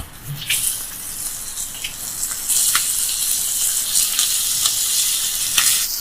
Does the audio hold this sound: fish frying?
yes